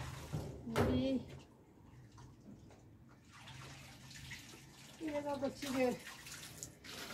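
Water drawn by hand from an old well with a bucket and poured into a water jar, splashing in two bursts under quiet speech from a man nearby.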